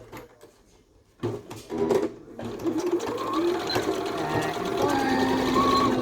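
Sewing machine stitching elastic onto a T-shirt coverall bib: a few short bursts first, then a continuous close whirring run of stitching, with a little speech near the start.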